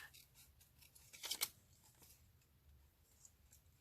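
Scissors snip through paper collage pieces, trimming whiskers from a cut-out figure: one short, crisp burst of cutting stands out clearly above a quiet room, with faint rustling before and after.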